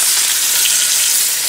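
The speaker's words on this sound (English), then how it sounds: "See how we're searing the outside?" Steady, loud sizzling of venison searing in butter in a hot frying pan, a continuous bright crackle with no voices.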